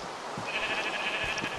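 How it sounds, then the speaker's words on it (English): Sheep bleating in the video game Minecraft, a single drawn-out bleat heard fairly clearly over faint background noise. "Damn it, sheep."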